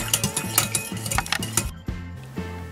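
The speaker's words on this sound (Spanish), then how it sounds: "En un bol vamos a poner la leche y la gelatina líquida. Y las mezclamos por 20 segundos." A utensil clinks and taps quickly against a bowl as milk and liquid gelatin are stirred together, a rapid rhythmic clatter that stops abruptly near the end.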